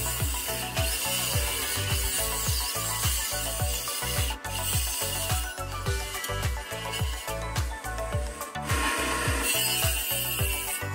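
A handsaw rasps back and forth through wooden strips being cut for the backrest of a wooden armchair, a close, steady rhythm of quick strokes with no talk.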